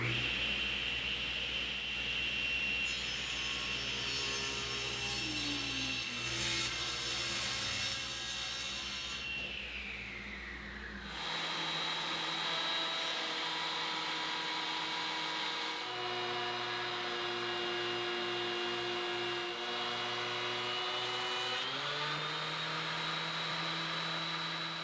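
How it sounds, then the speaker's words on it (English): Power woodworking machines work an old sapele tabletop: a steady sawing whine ripping the board at its glue seam gives way to a planer's loud droning hum, with pitch shifts as boards feed through and no talk. "it'd still be fun to rip it at the seam, and then we'll throw one of these boards through the planer"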